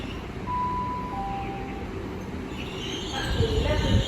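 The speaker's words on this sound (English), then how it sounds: "Now arriving is the 11:49 Great Western Railway service from Swansea to London Paddington" A Great Western Railway train pulls into Reading station with a steady rumble of wheels on rail. The noise builds toward the end, topped by brief squealing tones amid station ambience and faint voices.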